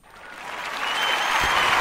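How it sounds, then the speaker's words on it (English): A crowd's round of applause swells from quiet to full, steady clapping, closing out a church-themed show broadcast. "We want to give you one round of applause"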